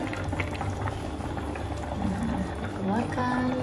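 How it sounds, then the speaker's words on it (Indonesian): Chicken broth at a steady rolling boil in a cooking pot, a continuous bubbling and churning that fills the whole stretch at close range, with faint kitchen clatter and no talk. "ini kaldunya juga udah mendidih"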